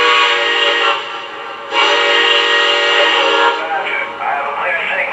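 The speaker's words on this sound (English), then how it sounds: "What it does do is it gives me 2 whistles, spools up, gives me tower comm" A Lionel Legacy AT&SF 4-8-4 Northern model locomotive sounds loud, sustained whistle blasts with a short dip between them, then a rising electronic engine spool-up hum with no one talking.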